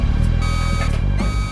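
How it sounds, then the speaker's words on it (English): An alarm sounding in the Mont Blanc tunnel control room, a loud, steady electronic tone that pulses repeatedly over a dense hum, alone without voices. "Alarms trigger in the tunnel's control rooms."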